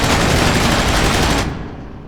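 Sustained rapid assault rifle fire in the video game Space Engineers, aimed at an asteroid: a dense, loud, continuous burst that cuts off after about a second and a half, leaving a fading tail.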